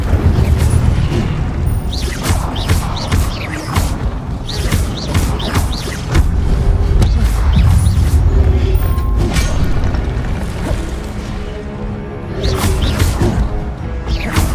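Fire spells cast repeatedly in Hogwarts Legacy during combat on hardest difficulty, heard as a dense run of loud whooshing bursts and booming impacts that keep going without a break, with clashing crashes mixed in.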